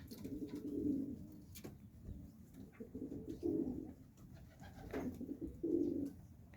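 Pigeons in nesting boxes coo in soft, low, repeated bursts, several calls spaced a second or two apart, close by and with no talking.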